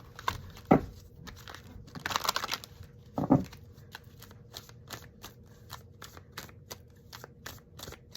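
Tarot cards are shuffled close up, with rapid riffling bursts and a long series of soft, regular flicks and taps, with no talk.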